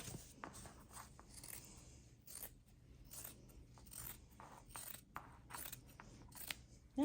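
Scissors snip and trim the sides of fabric for a handmade Christmas stocking, a string of quiet, close crisp cuts and light scrapes in an otherwise quiet room.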